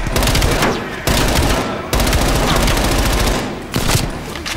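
Dense, loud automatic gunfire from the Call of Duty Black Ops Cold War video game, sustained bursts with brief breaks, filling the foreground with little room for anything else.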